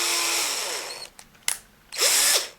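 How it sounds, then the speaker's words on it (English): Power drill boring into a broken analog thumbstick from a game controller: a high, whining burst, a pause filled with a few brief clicks and spurts, then a second short whirring burst, close up with no talking. "So I'm going to drill a little bit more in, but don't go too far."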